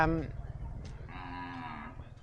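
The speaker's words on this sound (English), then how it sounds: "nice big cow there" A large cow gives a single drawn-out moo at moderate distance outdoors, steady and tonal for about a second, over a low rumbling background.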